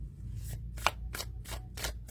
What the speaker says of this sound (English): And with a little bit of shuffling, I think that'll loosen up.